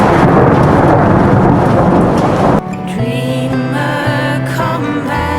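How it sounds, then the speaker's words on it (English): Thunderstorm building in the evening in the Dolomites, a loud, dense wash of rain and rumbling thunder that gives way partway through to a calmer, tonal layer over the continuing storm. "The heat built up into a magnificent storm later that evening."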